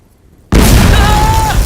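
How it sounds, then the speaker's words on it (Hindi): A big bomb goes off in a film scene: after half a second of near silence, one sudden, very loud blast hits and rumbles on without letup to the end, with a thin high tone ringing over it. "किसी ने भी ध्यान दिया कि यहाँ इतना बड़ा बम फटा?"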